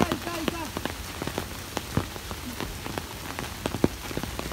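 Steady rain patters on surfaces close by, with dense irregular drops and occasional sharper splats, while people talk faintly in the background.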